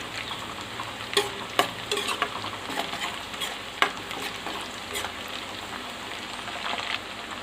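Two bay leaves, two dried red chillies and two slit green chillies fry in hot oil, a steady sizzle broken by repeated clinking, scraping stirs of a spatula against the pan.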